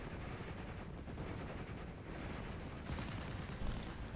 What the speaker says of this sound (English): so decided to strafe the armoured LMG rifles instead